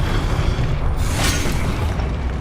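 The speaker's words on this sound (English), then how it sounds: "Expelliarmus." A spell cast in Hogwarts Legacy, the Expelliarmus disarming charm, lands as a deep booming burst with a brief bright crackling flare in the middle, set over a constant low rumble of game effects.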